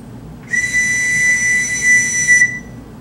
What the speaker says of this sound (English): The trench whistle.